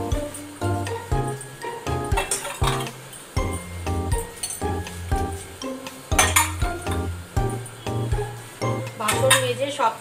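Dishes, pots and pans are washed at a sink, with repeated metallic clinks and clanks in an irregular rhythm, close and fairly loud, under intermittent talk and running water.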